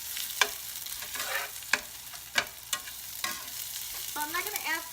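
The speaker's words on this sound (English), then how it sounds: "I did want to use my Asian wok to fry it because it's a lot faster" Ginger and clams stir-fried in an Asian wok give a steady sizzle, broken by several sharp metallic scrapes and clanks of the spatula against the pan. The sounds are close and there is no speech.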